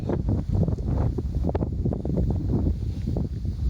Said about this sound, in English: sorry for the wind, because it's definitely windy